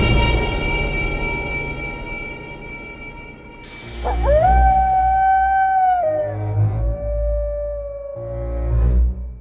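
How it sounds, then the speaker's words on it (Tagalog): Wolf-like howls rise and hold in long, sliding tones, several overlapping cries after a droning ambient bed, loud and eerie in a staged forest horror scene. "Hindi na isang alulong lang ang narinig namin, kundi para bang marami"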